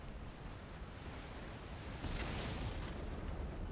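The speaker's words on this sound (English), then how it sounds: "one of my blocking ships went up in flames, completely blown up" A warship blows up mid-battle in Napoleon: Total War, a loud sustained roaring blast that surges and thickens about halfway through, with no voices over it.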